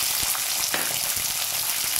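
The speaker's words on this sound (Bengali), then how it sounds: "দেখুন সর্ষেটা ফুটতে শুরু করেছে, এর মধ্যে আমি দিয়ে দিচ্ছি মটরশুঁটি" Peas tipped into hot oil with spluttering mustard seeds and dried red chillies give a dense, steady sizzle with small pops and crackles throughout, close and alone.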